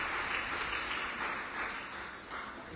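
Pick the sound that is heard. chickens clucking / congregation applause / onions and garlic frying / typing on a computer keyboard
congregation applause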